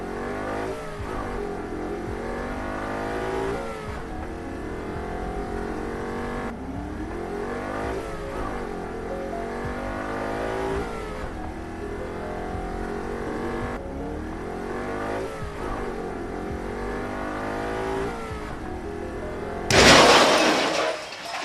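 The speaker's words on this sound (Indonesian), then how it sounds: "Dan dia pakai motor tuh ngebut banget." A motorbike speeds along as a sound effect, its engine rising through repeated revving gear-shift cycles before a sudden loud crash-like burst at the end.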